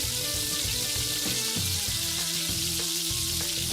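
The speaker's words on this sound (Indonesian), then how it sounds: "Untuk bumbu lada hitamnya kita oseng-oseng. Dan masukkan dagingnya juga paprika dan bawang bombaynya." Beef sizzles loudly in a wok as it is stir-fried with black pepper sauce, paprika and onion, a continuous bright crackle with scraping and stirring clatter throughout, no voices.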